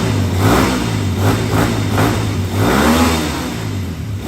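Engine of a Rusi KRY 200 motorcycle revving hard: a close, loud run of pulsing throttle blips, with pitch climbing and falling several times before settling toward a lower rumble, and no talk.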